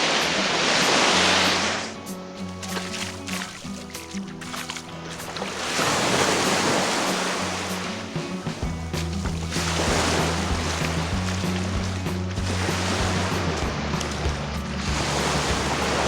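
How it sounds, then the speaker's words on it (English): Ocean waves surge and wash in repeated loud swells, each roaring crash fading to a lower rumble before the next rolls in, with no speech. "There's been a lot of waves."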